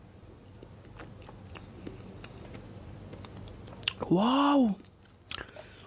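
Crisp little bites and chewing on a mangosteen fruit, faint scattered crunches, followed by a voice exclaiming in surprise.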